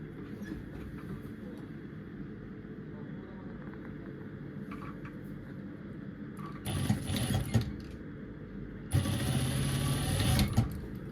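Sewing machine stitching dress seams in steady quick bursts, close and clear, starting and stopping twice with faint background hum between runs.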